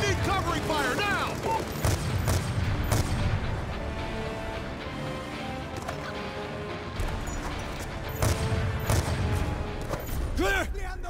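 Sniper and covering gunfire on an overpass in Call of Duty: Black Ops II's Los Angeles level, sharp cracks and booms over a constant battle din with music and shouted voices throughout.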